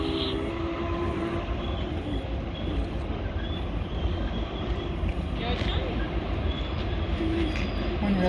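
A freight train rolls through the Spiral Cut, a steady dense rumble of wheels and cars close by with faint squeals and clanks over the continuous roar.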